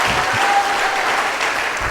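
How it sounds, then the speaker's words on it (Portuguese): A church congregation applauds in a continuous, even burst of many hands clapping, fairly loud and close, with no talk over it. "é uma salva de palmas."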